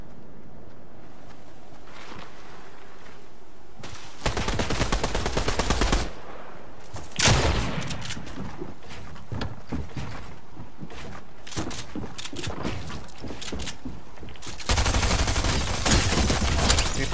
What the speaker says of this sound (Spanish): Hay disparos por allá, pero no me incumbe.